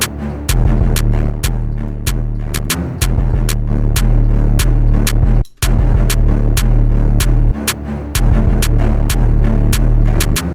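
A loud, heavily distorted 808 bass beat with a throbbing bass and evenly spaced clipped hits, pounding steadily with one brief dropout in the middle.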